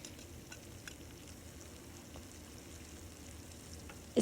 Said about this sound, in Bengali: তো মাছগুলো এখন আমি ফ্লিপ করে দিচ্ছি এই যে প্রায় অলমোস্ট হয়ে এসছে